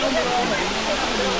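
Paladhara Panchadhara waterfall at Srisailam roars as a steady broadband rush of falling water, close and loud, with a voice faintly mixed into the wash.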